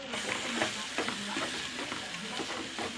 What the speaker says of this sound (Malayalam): ഇനി നമുക്ക് നന്നായിട്ടൊന്ന് ഇളക്കി കൊടുക്കാം